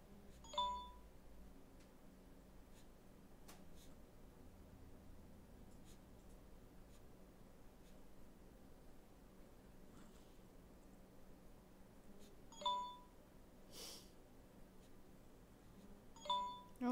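A phone notification chime sounds three times, short bright tones at the start and twice near the end, over a quiet room with faint pencil scratching on paper during a drawing exercise.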